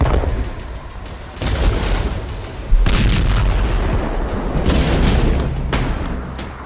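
Missile explosions and artillery fire in Tehran, heavy booming blasts and a sustained roar of fire, loud and continuous, with one sharp impact partway through and no voices.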